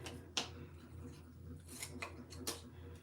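Scissors snip paper trimmed for a handmade card, giving several quiet, separate cuts spaced over a few seconds against a soft room background.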